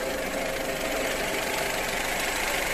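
Skoda Octavia car engine running at a steady idle, a constant dense mechanical rumble with faint knocking texture, close and uninterrupted throughout with no talk.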